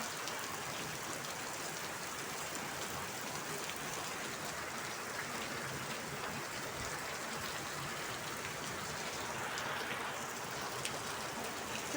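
Steady rain falls without pause, a soft, even hiss of drops pattering on surfaces that holds at a constant, fairly faint level for the whole stretch, with no voices.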